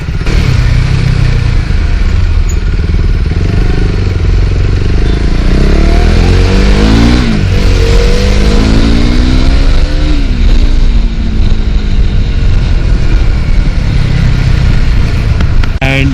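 A motorcycle engine in PUBG Mobile, loud and close, runs steadily, then revs up through rising pitch sweeps and settles back to a rough drone.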